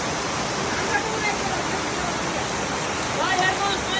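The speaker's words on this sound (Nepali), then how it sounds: "भल हेर्नु नि यहाँ" Floodwater rushing down a road in a flooded neighbourhood during heavy rain, a dense, steady roar of broadband water noise filling the whole clip, close and loud, with no distinct voices.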